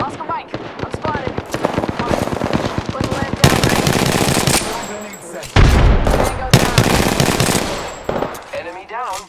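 Rapid automatic gunfire from Apex Legends combat on PS4 Pro, dense bursts of shots rattling loudly and continuously with a heavy blast partway through, game voice lines and chatter mixed underneath.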